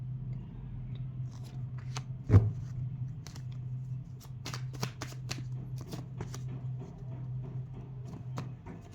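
Tarot cards are shuffled and riffled close by, giving a series of crisp flicks and soft slaps over a low steady hum, with one louder knock early on.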